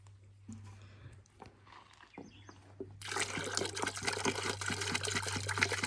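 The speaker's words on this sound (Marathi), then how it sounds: "तर पाणी घेते आणि त्या कलबांक घालते" Water from a large 15-litre can pours onto garden plants, starting as faint trickles and drips before a loud, steady gushing pour takes over at the midpoint, close to the microphone under a low hum.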